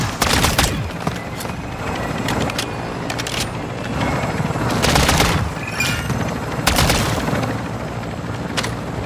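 Dense gunfire from Call of Duty Modern Warfare 3 on Xbox Series X, with repeated bursts of automatic fire and heavy booms layered over continuous loud battle noise, near and relentless throughout.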